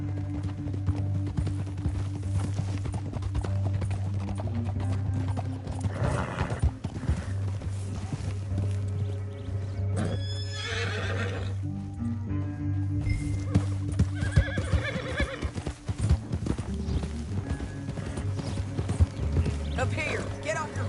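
In a video game, hooves gallop in a steady clip-clop as a horse neighs loudly several times, with voices and a constant low drone underneath.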